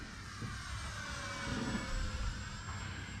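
Steady high whine of an FMS P-51D Mustang Dago Red RC warbird, 1100mm span on 4S power, ripping past on a low runway pass, a continuous electric-motor and propeller drone that swells slightly midway.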